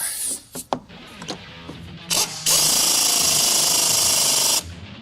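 A power tool drives a bolt on a Jeep Wrangler steering shaft, beginning with a few short loud bursts and then settling into one sustained, loud, close-up run of about two seconds.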